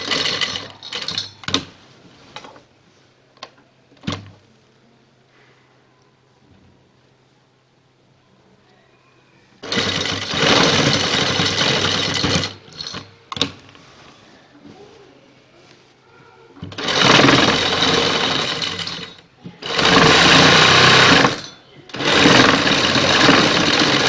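Loud close-up sewing machine stitching a lace neckline design, with several long rattling runs separated by quiet pauses and a few clicks.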